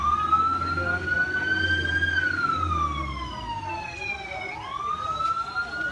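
A police car siren wails as it arrives at a large fire at a passion fruit processing warehouse in Chư Sê, the tone rising and falling loudly over traffic noise and the rumble of a crowd.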